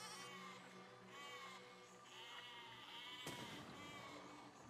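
Sheep in the Besiege video game bleat faintly and repeatedly against a steady background hum, with no talk.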